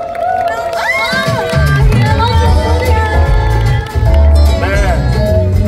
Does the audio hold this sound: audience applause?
yes